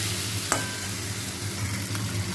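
Curry masala fries and gets stirred in a pan, giving a steady close sizzle with one sharp scrape of the spoon near the start and another soft one later.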